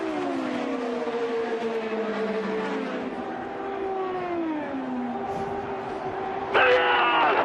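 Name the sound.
IndyCar race cars speeding to the finish line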